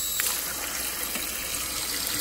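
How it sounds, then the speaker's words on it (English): Water pours steadily into an Instant Pot pressure cooker holding chicken, a close, continuous splashing stream with no talk. "Put a little water up in there."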